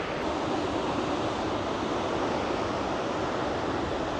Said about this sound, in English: the torrent of this waterfall is just